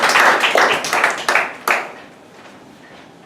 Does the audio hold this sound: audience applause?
yes